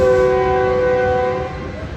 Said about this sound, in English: So that is a train.